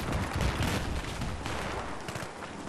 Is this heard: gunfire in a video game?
yes